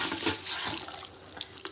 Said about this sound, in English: go ahead and squeeze out that excess water